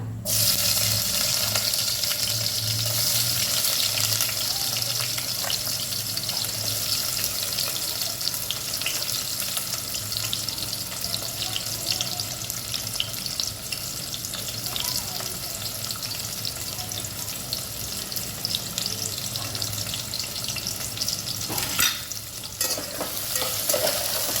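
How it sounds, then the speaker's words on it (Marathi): Chopped onions sizzle in hot oil for a village-style chicken biryani, a dense continuous crackling hiss that stays loud and steady throughout, with an occasional brief scrape of stirring. "बघा तेल तापले आपलं आता आपण कांदा घालूया"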